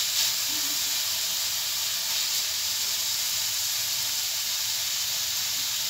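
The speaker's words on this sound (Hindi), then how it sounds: "ये देखिए हमारा प्याज अब धीरे धीरे फ्राई हो रहा है" Onions frying in a pan as the base for wheat leaf soup, giving a loud, even, continuous hissing sizzle with no pauses or voices.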